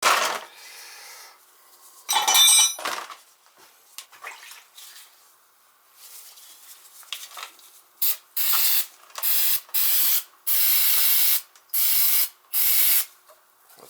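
Carburetor cleaner sprayed from an aerosol can on oil boiler parts during an annual service, several short loud hissing bursts in a row, with quieter handling noises before them.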